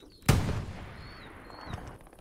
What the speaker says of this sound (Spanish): disparo de tanque